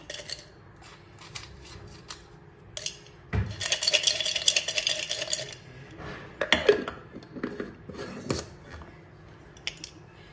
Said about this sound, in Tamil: இதை நம்ம இப்போ ஒரு பாட்டிலில் போட்டு மூடி வச்சுருவோம்